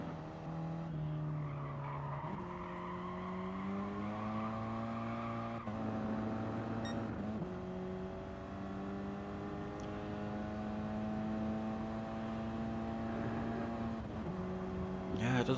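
Race car in a BTCC-league racing video game at the Nürburgring GP circuit, engine pitch climbing and dropping through gear changes with tire squeal and skidding, under commentator talk.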